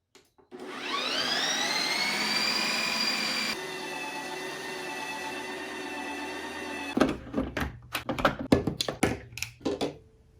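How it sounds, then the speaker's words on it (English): A Ninja Creami ice cream machine processes pina colada sorbet with a loud, steady whirring drone that shifts pitch partway through. It then winds down into irregular clunks and knocking at the end. "throw it back into the machine, crank it up, hit the sorbet button"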